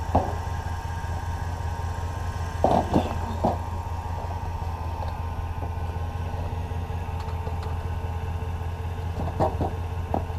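A Kubota diesel tractor engine idles in cold, snowy weather with a steady low rumble, broken by a few faint knocks and clanks.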